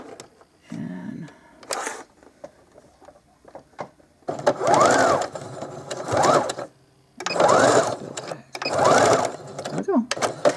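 Sewing machine stitching the right sides of fabric together for a Dollar Tree snowman craft, running in several loud bursts separated by short pauses, with quiet handling noises in between.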